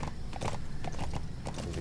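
Hooves clip-clop in quick, uneven beats from a horse in Metal Gear Solid V: The Phantom Pain, set in Afghanistan, with a short whinny mixed in. The sound is close but fairly quiet.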